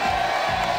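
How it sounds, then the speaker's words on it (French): A TV studio audience applauds the three hostesses on a French show's final broadcast, a dense, loud burst of clapping and cheering that fills the whole brief moment. "j'aimerais pour cette dernière émission qu'on applaudisse nos trois hôtesses"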